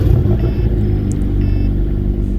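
An inline-4 car engine in the video game Greenville idles after startup with a steady, loud low rumble and a faint high whine, continuous and without talk.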